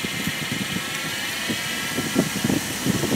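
A wood lathe spins at about 2,500 RPM, giving a steady, close whirring hum with a constant airy hiss and no voices.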